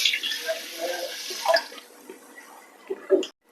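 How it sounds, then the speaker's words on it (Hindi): A cupful of water is poured over sugar in a pan to make syrup for boondi laddu, with close splashing and trickling that tapers into a few light drips and a final clink. "जिस कप से चीनी ऐड किया था उसी कप से पानी ऐड करेंगे,"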